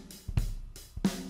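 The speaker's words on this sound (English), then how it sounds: "So I'm at 92 beats per minute, and I'm an easy drummer" Slow, easy hip-hop drum groove at 92 BPM in a classic Roots-style pattern, with a kick and snare hitting roughly every half second at moderate level, alone with no voices.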